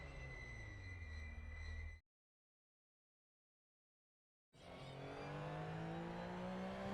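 A Porsche 911 GT3 Cup car driving in the Assetto Corsa racing game, with a loud, sustained engine whine and tire noise that cuts to silence for a few seconds before resuming at higher revs.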